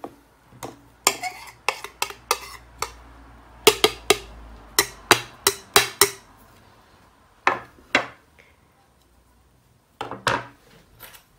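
Dry spice mix tipped into a large cooking pot while making Chinese chicken pakora: close, sharp clinks and taps of utensils against metal, coming in irregular bursts with short pauses and no talking.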